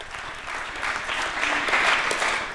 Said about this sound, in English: So I think we can also thank them and applaud them.